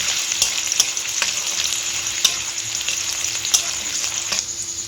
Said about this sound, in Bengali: পেঁয়াজ বেরেস্তা করে নেব।